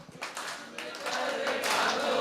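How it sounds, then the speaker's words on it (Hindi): Men in the audience at a Hindi kavi sammelan clap along to a sung verse, scattered claps that start sparse and grow into fuller, louder clapping toward the end, mixed with faint voices. "पुरुष ज्यादा ताली बजा रहे हैं।"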